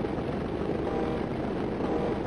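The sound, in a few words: airplane flying in the video game Stunt Island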